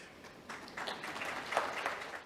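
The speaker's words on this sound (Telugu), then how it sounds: "దానికి చప్పట్లు ఎందుకు కొడుతున్నారు" An audience at a spoken talk breaks into a short burst of clapping that rises quickly, holds for about two seconds, and then fades, heard from a moderate distance.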